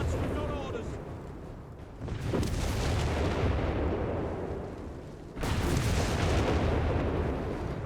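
Repeated booming mortar and artillery blasts in a Company of Heroes 3 battle, heavy dense impacts rolling one after another with a fresh loud burst midway, under a steady game-commentary voice.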